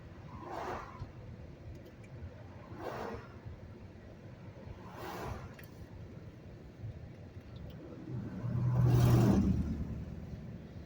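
A car creeps through stop-and-go road traffic, a low engine and road rumble broken by soft swells of passing vehicles, then one louder surge building near the end.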